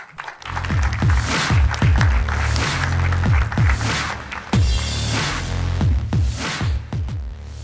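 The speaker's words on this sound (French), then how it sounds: "nous allons maintenant continuer à applaudir" Audience applause at an awards ceremony, sustained clapping from a crowd heard over a loud, rhythmic thumping music beat.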